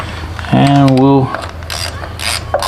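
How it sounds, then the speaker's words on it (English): A ratchet tightens bolts on a transmission during a hydraulic clutch conversion, giving one close, loud burst of rapid clicking followed by quieter rubbing and handling noises. "The ratchet barely fits between the bolt and the body of the transmission."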